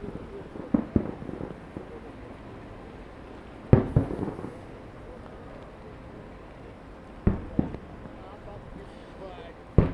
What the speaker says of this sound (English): We are firing off the fireworks as they had already been set up and primed to go off later this evening